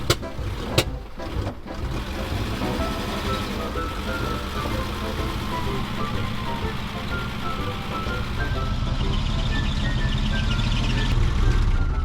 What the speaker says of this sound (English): Okay, I'm going to take it for a spin